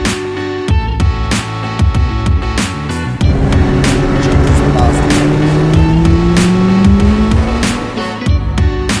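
A McLaren 570GT sports car drives up a volcano pass on a volcanic island, its engine rising in pitch through a rev climb with sharp clicks and bumps, loud and close as if heard from inside the cabin.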